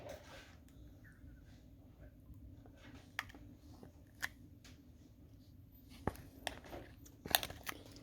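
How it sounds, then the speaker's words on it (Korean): Quiet close-up chewing and biting of food during a Korean mukbang, with soft crunches and sharp clicking bites scattered over a low background hum, growing a little more frequent toward the end. "제가 일단 먹어보겠습니다"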